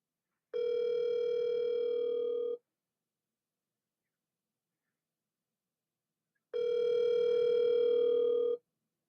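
Telephone ringback tone on an outgoing call: two long steady electronic rings about two seconds each, separated by roughly four seconds of silence, clear and alone.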